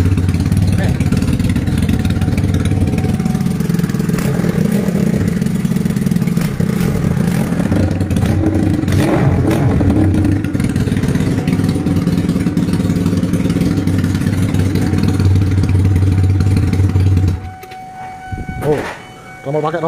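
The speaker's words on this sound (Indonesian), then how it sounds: "Ini mesinnya pakai Yamaha Scorpio. Yamaha Scorpio 225 cc." A custom motorcycle with a Yamaha Scorpio 225 cc engine idles steadily up close, a low rumbling drone with faint clatter, ending abruptly near the finish with a few knocks; voices are faintly present in the background.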